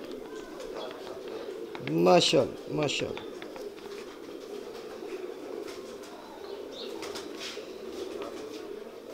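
Pigeons murmur and coo steadily in the background while a brief burst of flapping wings comes early on, and someone speaks over it.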